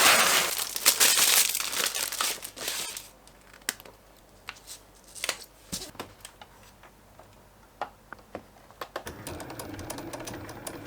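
A Cricut cutting machine slices an acetate stencil sheet, giving crinkly rustling at first, then a run of sharp ticks and clicks with quiet gaps between them, close up with no talk.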